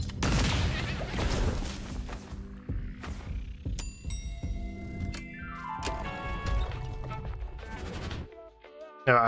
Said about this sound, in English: I like all the explosions and stuff.